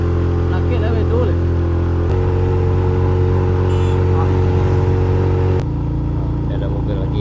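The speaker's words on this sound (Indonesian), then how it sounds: "Ini ada mobil lagi yang melintas. Avanza sana BM." A Toyota Avanza drives past on a road linking Solok and Pesisir Selatan regencies, a loud, sustained engine drone with abrupt shifts in tone, heard from close range with people talking over it.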